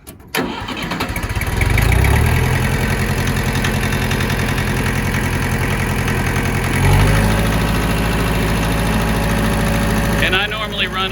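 A Mitsubishi D2650FD diesel tractor engine cranks briefly, catches and settles into a loud, steady idle nearby, with a slight rise in revs partway through.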